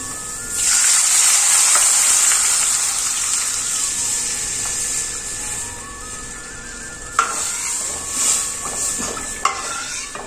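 Prepared kadhi mixture hits hot garlic tempering in a pan, bursting into a loud, bright sizzle that settles into a steady hiss, broken by a few clinks of utensils near the end.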